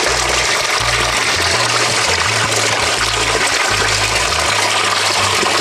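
Water poured over the fins of a fish being cleaned, a steady broadband splashing and gushing that runs continuously and loudly throughout, with a low rumbling hum underneath and no talking.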